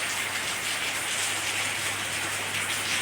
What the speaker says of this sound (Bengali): বৃষ্টির দৃশ্য দেখতে কার না ভালো লাগে।